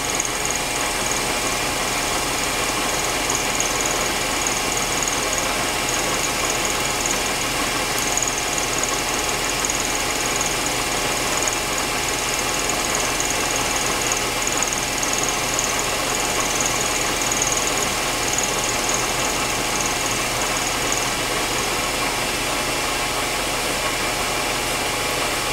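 Rotary table machining run making a spring pass, a steady, continuous mechanical hum and whir with a constant drone and no pauses throughout.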